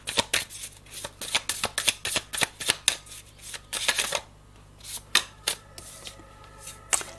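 Tarot cards being shuffled for a spiritual reading: a rapid series of close, crisp riffling and slapping bursts, fairly regular at first, then sparser with short pauses, with no talking.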